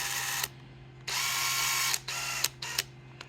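Screws being driven into a mini dual motor transmission for an HW Fusion Mini 16, heard as close, loud bursts of a small powered driver that start and stop several times over a steady background hum.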